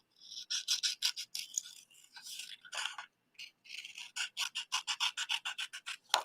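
A paper trimmer blade slices through a 4 3/8 by 2 inch card with a series of quick, close scraping strokes in steady rhythm, pausing briefly midway, with no talking.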